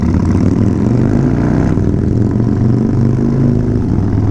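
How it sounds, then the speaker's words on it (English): Three cammed-up Harley-Davidson motorcycles, two of them 110s, idle together at a rod and custom show and shine, a loud, steady, deep lumpy rumble with no talk over it. "Have a listen to the rumble of 3 cammed up Harleys,"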